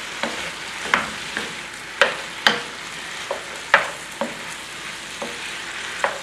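Chicken pieces with spices fry in a pan with a low steady sizzle, while a utensil scrapes and clacks against the pan in a dozen irregular stirring strokes, close and moderately loud.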